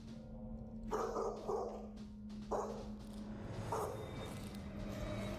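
A dog barks in a few short bursts at a closed door indoors at night, the yaps loud and close over a steady low hum.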